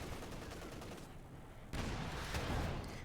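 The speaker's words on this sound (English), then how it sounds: "Nice hit here from the anti-tank gun on the command tank." Gunfire from the Company of Heroes 2 video game, with an anti-tank gun firing at a command tank: a dense, continuous crackle of shots and battle noise, with a louder burst of firing partway through.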